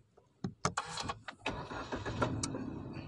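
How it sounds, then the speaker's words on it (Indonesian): A Suzuki Ignis car starts by push-button: a few sharp clicks and a quick cranking burst catch into a steady, fairly quiet idle that continues to the end. "Dan mesin sudah nyala."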